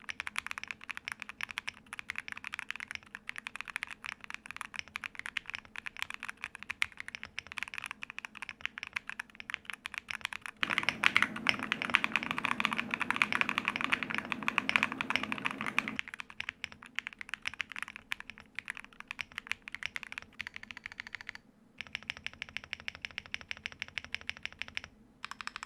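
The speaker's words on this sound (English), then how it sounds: "let's hear how it sounds on the keyboard." Typing on a keyboard fitted with novelty face keycaps that have ears, a steady run of close, clicky keystrokes with a denser, louder burst in the middle and a quick patter near the end.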